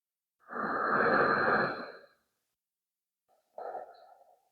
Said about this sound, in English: Just breathing here.